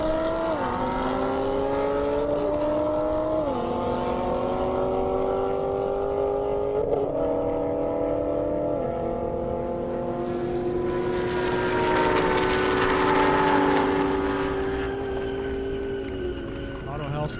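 An Audi R8 and a Corvette Z06 drag race down an airport airstrip, engines roaring loud and close as they climb through repeated upshifts, with a second swell of engine noise near the end.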